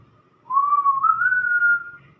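A single whistle blows one clear, sustained tone lasting about a second and a half, rising slightly in pitch, alone over faint background hum.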